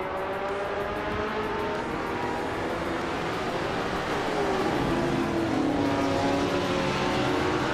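Racing cars in a video game race, led by a Ferrari 275 GTBC, hold a steady loud engine whine, with revving pitch sweeping up and down as cars close in, and no voices.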